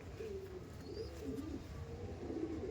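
Andhra pigeons coo in a low, steady murmur of overlapping calls at a market stall, with a faint chirp and background bustle underneath and no voices.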